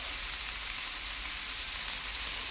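Tofu and mung bean sprouts sizzle steadily in a small frying pan with oyster sauce, a close, even frying hiss that runs without a break and with no talk over it.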